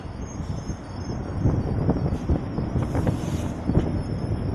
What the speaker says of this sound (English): Trinity Railway Express.